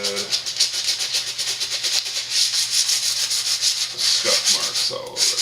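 Steady, loud sanding of a fly rod blank being scuffed, a continuous rasping rub that runs through the whole stretch with slight rhythmic strokes, heard alone up close.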